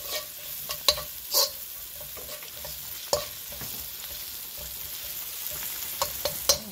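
Vegetables stir-frying in a pan, a steady sizzle with a few sharper clicks and scrapes of stirring scattered throughout, close and clear with no voices.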